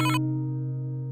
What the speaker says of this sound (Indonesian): Dia telepon.